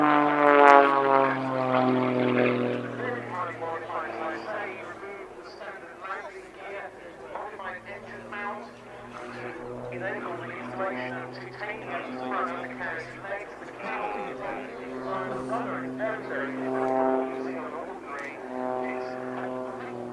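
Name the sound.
jet-assisted aircraft hovering at an airshow display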